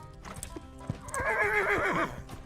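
Tongue clicks imitating a trotting horse, a quick run of hollow clip-clop beats, close and fairly loud, with a brief whinny-like vocal sound in the middle.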